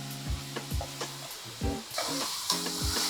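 Spice tempering (oggarane) sizzles steadily in a pan, with repeated stirring scrapes and clinks cutting through the close, continuous hiss of frying.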